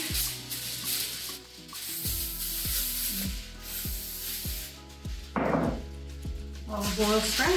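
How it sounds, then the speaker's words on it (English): An olive oil spray can spritzes onto kitchen foil laid over a lasagne baking dish, a soft hiss against a bed of steady low hum and repeated faint taps. "Olive oil spray."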